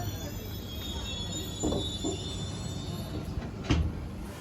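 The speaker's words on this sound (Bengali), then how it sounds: "ট্রেন এখন এসে পৌঁছলো রামনগর বেঙ্গলে।" The Kandari Express pulls into Ramnagar Bengal station on the Howrah to Digha line, heard from inside a 2S chair car as a steady low rumble with a few muffled clunks and knocks.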